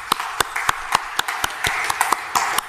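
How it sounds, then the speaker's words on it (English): Sparse applause from a small meetup audience, a few hands clapping in an uneven rhythm, distinct sharp claps over a light room murmur. "Please welcome him with a huge round of applause"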